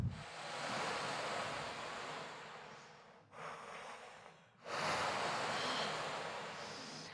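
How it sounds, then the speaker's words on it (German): Sea surf washes onto a beach on a warm summer evening. Waves swell and break in a continuous hiss that briefly dips and then surges back. "Das Meer rauscht."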